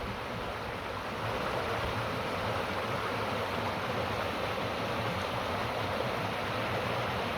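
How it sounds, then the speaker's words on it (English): Steady broadband rush of flowing water where three rivers meet in a brook valley, a continuous loud wash with no breaks, close by and without voices. "This is actually where three rivers meet."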